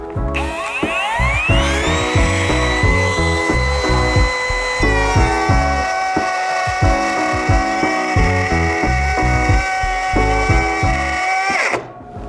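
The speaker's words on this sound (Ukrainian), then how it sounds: "На що здатен акумуляторний фрезер на 4 амперному акумуляторі" A Dnipro-M DCR-200BC cordless router powered by a 4 Ah battery cuts wood with a loud, close, high motor whine, its pitch climbing as it spins up, overlaid by rapid rattling chatter throughout before it stops abruptly.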